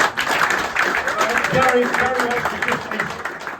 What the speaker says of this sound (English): Big round of applause for Nick.